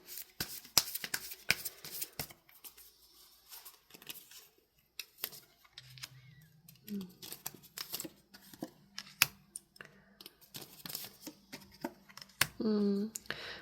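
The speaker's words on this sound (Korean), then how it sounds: "한번 추가 카드도 뽑아보도록 할게요." Tarot cards being shuffled and drawn by hand, a quiet run of crisp riffles, slides and taps in irregular bursts, close and soft, with a brief louder flurry near the end.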